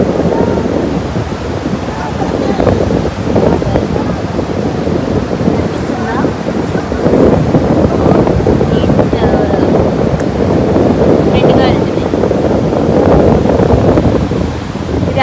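Strong wind buffets the microphone while surf rolls and washes steadily in the background at Arambol Beach, Goa, with no break.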